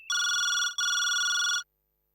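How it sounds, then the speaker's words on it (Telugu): A telephone bell rings indoors in two loud, evenly spaced bursts, then falls silent, with no talk over it. "అదిగో ఫోన్ రింగ్ అవుతుంది."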